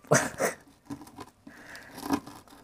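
Crisp, crunchy bites of carbonara popia and cheese toast being chewed, a few quick crackling bursts with pauses between, close and fairly quiet.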